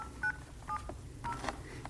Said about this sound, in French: Il va au téléphone, compose un numéro